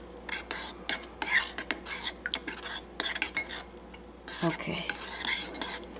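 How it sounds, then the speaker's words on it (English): A utensil scrapes and clinks around a bowl, mixing a marinade for three-pepper steak, with rapid rhythmic stirring strokes close up and a brief spoken word. "So I'm just going to mix this around."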